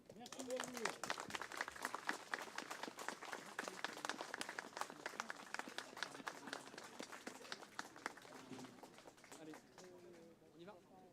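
Audience applause at a commemoration ceremony for the 8 May 1945 Victory anniversary, a dense run of clapping lasting several seconds at steady strength, mixed with a murmur of voices.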